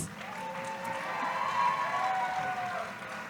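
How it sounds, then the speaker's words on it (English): A hall audience at an Indian cultural society's annual event gives a steady round of crowd applause, a soft distant wash of many hands with faint cheering, sustained and even throughout. "So, one more round of applause."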